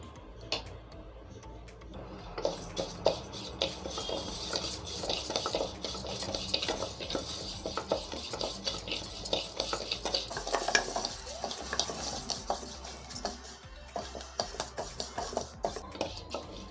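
Horse gram (kollu) roasting in a pan, a spoon scraping and stirring it with repeated clinks and rattles against the metal, close and fairly quiet, with no talking.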